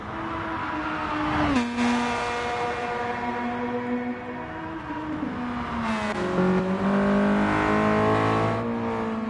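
Race cars lapping Willow Springs International Raceway in Gran Turismo Sport, engines droning loud and continuous with rising and falling revs and gear shifts, one car sweeping past mid-stretch, a brief tire squeal, no talking.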